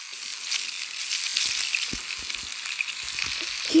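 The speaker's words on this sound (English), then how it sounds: "Hear that sizzle, guys?" A steak sizzles on a pan in the Toca Kitchen 2 video game, a faint steady frying hiss with a few small clicks mixed in.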